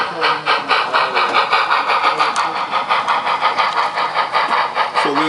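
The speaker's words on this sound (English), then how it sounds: "That's one of the 15 K27 class locomotives that the DNRG bought in 1903." A K27 class steam locomotive, one of fifteen bought by the DNRG railroad in 1903 and used for switching in a rail yard, runs with a steady rhythmic chuffing pulse, loud and close, sustained throughout.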